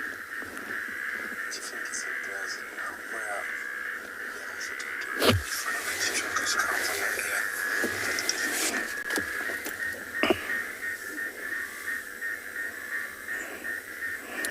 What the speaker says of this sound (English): it's a beautiful sound of frogs